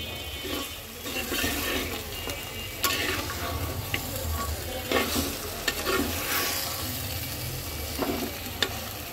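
Country chicken and spices frying in a pan while being stirred, a steady close sizzle with scraping strokes and occasional clinks of a utensil against the pan, with no voices.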